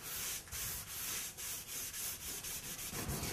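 A rag rubs stain across a textured sheetrock wall in rhythmic back-and-forth strokes, each pass a soft, close scratchy swish.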